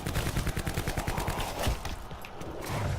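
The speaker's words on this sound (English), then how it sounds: "you're trying to keep shooting him with those silver bullets" Rapid bursts of gunfire from a video game as silver bullets are pumped into a werewolf on the Dead of the Night map, shots firing loud and close in a steady, repeating rhythm for about three seconds.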